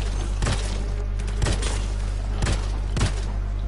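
The Herald's Vengeance masterwork heavy pistol in the video game Anthem fires four loud, punchy shots at an uneven pace, each a sharp crack over a constant low rumble of game ambience.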